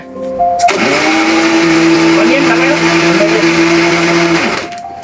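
A juice blender roars at high speed for several seconds, a loud strained motor whine with rattling inside the jar that cuts in sharply and then stops abruptly.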